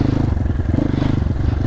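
A MOTOPRO 300 motorcycle with a Zhongshan-built engine runs nearby at low revs, giving a steady, rapid thumping beat with some clatter.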